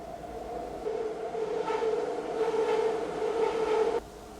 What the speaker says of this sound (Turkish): Tren durağının dibinde oturmanın negatif tarafları.